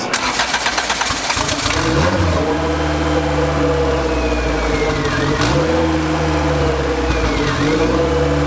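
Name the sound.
turbo LS VTEC car engine running on a dyno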